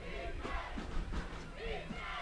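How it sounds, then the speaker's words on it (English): The West Catholic crowd at a high school football game cheers on its defense late in the fourth quarter, a steady roar of many voices with rising shouts and yells. "this West Catholic crowd trying to cheer on their defense"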